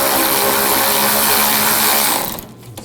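A power tool whirs loudly and continuously while tightening a nut on the front control arm of a 2006-2009 Audi S4, then stops abruptly and leaves a few faint clicks and clatters.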